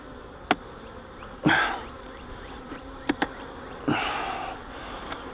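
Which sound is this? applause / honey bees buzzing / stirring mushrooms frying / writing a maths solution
honey bees buzzing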